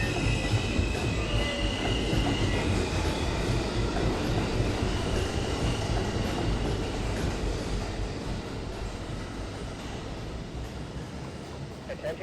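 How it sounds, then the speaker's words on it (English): A local New York subway train pulls into Rector Street station, a loud steady rumble of wheels and rail noise with faint squeal, easing slightly toward the end; a platform announcement voice is heard beneath the roar. "There is a local train approaching the station."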